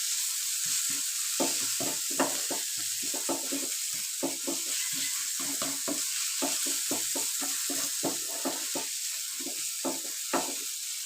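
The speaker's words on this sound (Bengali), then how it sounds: "একবার ভালো করে এভাবে মিক্স করে নিচ্ছি।" Spoon scraping and stirring a tomato and spice masala in a frying pan, where the tomatoes have cooked down and the oil has separated. The strokes are steady and repeated over a constant sizzle, and no one speaks.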